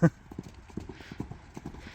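A horse walks over with soft, fairly faint clip-clopping hooves in an uneven steady rhythm, following one sharp louder knock at the start, in a quiet outdoor paddock.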